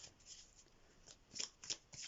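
Oracle cards shuffled for a tarot reading, a faint papery riffle with several soft flicks and a few sharper snaps toward the end, close and quiet.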